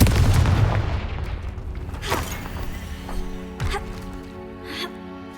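A Confringo blast spell in a Harry Potter wizarding video game opens with a heavy booming burst that decays into a rumbling tail, followed by a few fainter thuds and creaks.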